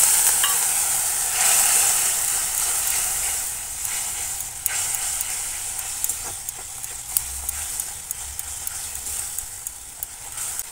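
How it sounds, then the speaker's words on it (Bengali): A spice masala paste fries in a pan with a dense, crackling sizzle. It is stirred steadily with small scraping taps and eases slightly as it goes on. "একটু ভালো করে মশলাটা ভেজে নেব।"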